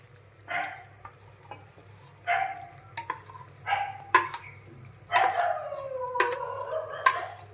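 A wheat mixture is stirred into sugar syrup in a pan, giving intermittent scraping and sizzling strokes in short bursts roughly every second or two over a low steady hum from the stove.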